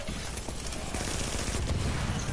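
Rapid video game gunfire, a dense crackling barrage of shots fired in quick bursts, loud and continuous, with no voices over it.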